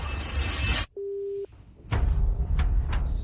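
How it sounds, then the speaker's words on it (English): A phone line gives a steady electronic tone for a number that cannot be reached, a single flat beep lasting about half a second between stretches of louder background noise. "Chin Young's phone was reachable just now. Why is it off now"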